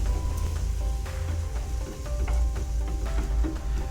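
Egg and spinach cooking in butter in a pan, a steady close sizzle and crackle with scattered small pops and a faint scrape or two, no voices over it.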